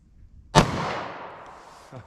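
A single sharp 9mm gunshot from a compact short-barrel handgun firing Speer Gold Dot ammunition, loud and close, with a long echoing decay that fades over about a second and a half.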